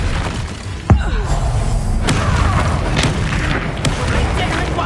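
A Confringo blasting spell from the video game Hogwarts Legacy goes off with a sharp, close boom near the start, followed by further thuds and shattering impacts, with combat voices over the din.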